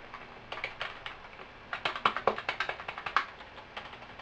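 Someone types on a computer keyboard while testing an Asus motherboard for an AMD Athlon64, giving a quick, uneven string of close, crisp key clicks that thickens in the middle and then eases off.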